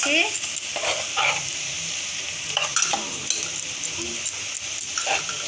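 Chicken, onions and garam masala fry in hot oil, with a constant close sizzle, intermittent stirring scrapes and a few soft background sounds.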